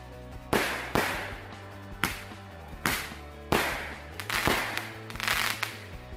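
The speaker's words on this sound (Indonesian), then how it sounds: "Setelah ini bakal kita nyalakan mercon Cobra dan juga mercon Gladiator" Cobra and Gladiator firecrackers go off in a loud, close series of sharp bangs, about eight to ten blasts spaced irregularly, some in quick clusters, with no talking.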